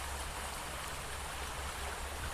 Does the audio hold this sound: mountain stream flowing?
yes